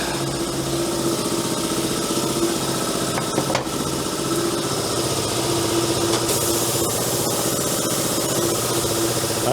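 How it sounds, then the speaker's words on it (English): An air compressor runs in a home garage beside a tire mounting and balancing setup, a loud continuous mechanical drone with a rapid pulsing rhythm, close up and without speech. "this compressor kicks off here in a second"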